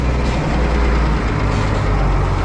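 A heavy Ursus 1224 tractor engine rumbles steadily close by as it sets off pulling a seed drill, a low continuous drone with no talking.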